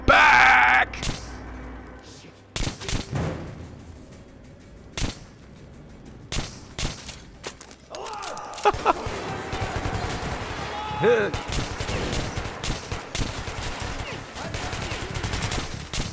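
Gunfire rings out while shooting an enemy in Metro Last Light: several sharp, loud shots and short bursts come in irregular clusters over a busy game soundscape, with a voice talking through parts of it.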